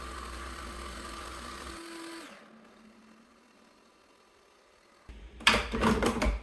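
A Ninja Creami blade spins in partially frozen water, a mechanical whir that winds down into near silence, then a loud, harsh burst of grinding and rattling starts up near the end.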